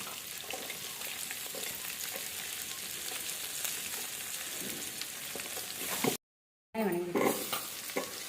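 Onions with green chillies frying and being stirred in a pan for a village-style mutton curry, with a continuous sizzle, scraping stirs and a brief silent gap before louder stirring resumes.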